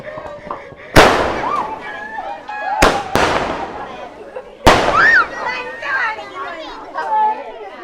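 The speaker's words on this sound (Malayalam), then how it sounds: "അപ്പൊ നമ്മളെ ഇന്നത്തെ വെടിക്കെട്ട് കഴിഞ്ഞു" Fireworks go off outdoors in four sharp, loud bangs spaced unevenly over several seconds, two of them almost back to back, each trailing into crackle while people chatter and children's voices carry on between the blasts.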